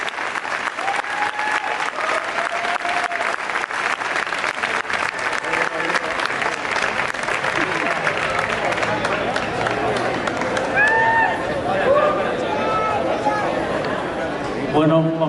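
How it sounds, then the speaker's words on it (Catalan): A large audience at a band concert gives loud, sustained applause for Mario Sebastián Dols. The dense clapping continues steadily, with crowd chatter mixed into it throughout. "I un fortíssim aplaudiment per a don Mario Sebastián Dols"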